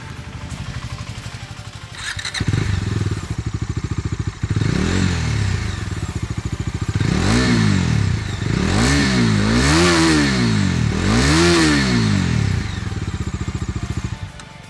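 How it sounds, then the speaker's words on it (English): A 2020 Bajaj Dominar 250 motorcycle engine idles with a deep throb through its double-barrel exhaust, then revs up and down several times in loud, rising and falling blasts. "you get this muscular double barrel exhaust, which not only just looks good, but it sounds even better"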